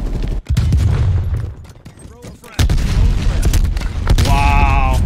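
Frag grenades and gunfire in Black Ops Cold War blast in loud, close bursts, heavy booms and rapid shots overlapping in a chaotic online match, with a brief lull in the middle and possible faint talk.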